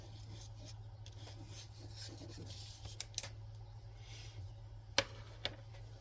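Pencil rubbing on paper while shading a Pokémon drawing, a quiet continuous scratchy rub with a few small taps, close up over a low steady hum.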